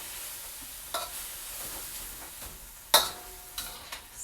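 Bitter melon and beef cooking in a pan in an office kitchen, giving a soft steady sizzle with occasional sharp clinks and scrapes of stirring, one louder clack standing out, and no voices.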